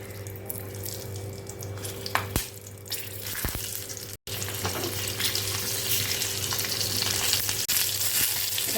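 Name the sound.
stuffed green chillies frying in oil in a kadai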